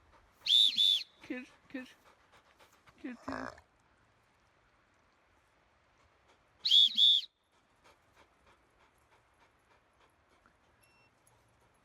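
A person whistles to call Busla, a dog out on a walk, with two loud, sharp bursts several seconds apart. A few spoken words and soft dog sounds come in between.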